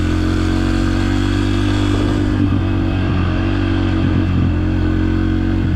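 A dirt bike engine drones steadily and loudly throughout a lap, a continuous close mid-pitched roar with slight shifts in pitch and no breaks.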